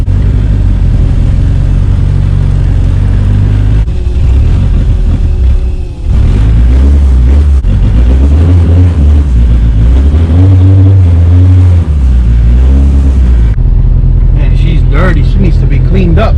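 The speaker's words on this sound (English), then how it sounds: "Just a neighbor with a race car," A race car engine revs loudly nearby in repeated surges and drops, heard with a steady engine drone under it and a voice speaking briefly near the end.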